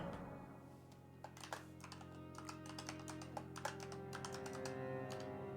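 Character name typed on a computer keyboard during Elden Ring character creation: quick bursts of crisp key clicks in uneven runs, close and quiet, over a faint steady game music drone with no talking.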